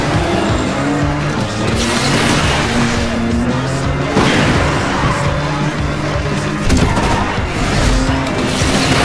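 Racing cars roar through an Asphalt 9 Legends race in a steady, loud engine drone with shifting pitch, tire squeals and skids, and a voice talks faintly underneath.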